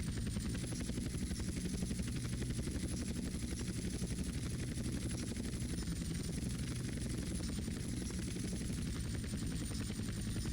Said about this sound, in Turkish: helikopter indirmek kolay.